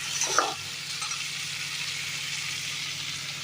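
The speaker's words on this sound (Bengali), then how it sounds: "এই অবস্থায় আমি দিয়ে দেবো একটুখানি জল।" Water splashes into a pan of spiced pointed gourd (potol), giving a brief burst at the start, then a steady bright sizzle and frying hiss continues alone over a low hum.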